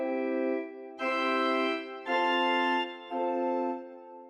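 Pipe organ holding a sustained chord while the principal stop is switched in and out by key switches, giving four blocks of steady tone, with brighter, fuller sections alternating with thinner ones at roughly one-second intervals, no voices.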